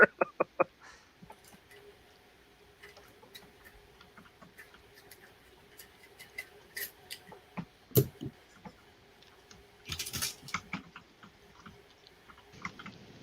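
Clicking keys on a computer keyboard during an online game, an irregular run of soft ticks and taps with a few louder clacks near the end, with faint voices in the background.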